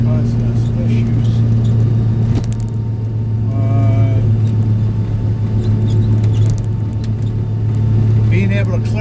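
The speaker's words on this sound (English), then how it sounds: "time to empty out the blower so I can raise it" A snow blower mounted on a John Deere tractor clears snow at an airfield, its steady loud engine drone and whine continuous and close, with faint squeaks and rattles riding on top.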